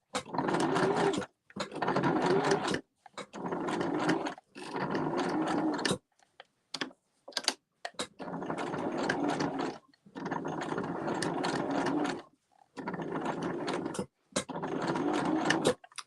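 A sewing machine stitches in bursts of a second or two, pausing briefly between runs, loud and close with no talking, while fabric for rustic outdoor table settings is worked through it.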